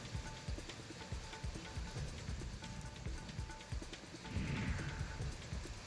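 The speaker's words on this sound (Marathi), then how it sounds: "सातारा जिल्ह्यात गेल्या 4 दिवसांपासून अवकाळी पाऊस बरसतोय" Unseasonal rain falling in Satara district, Maharashtra, with dense patter on surfaces and scattered close drops over steady hiss, and a brief louder swell near the end.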